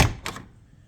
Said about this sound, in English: And listen to the way these doors open.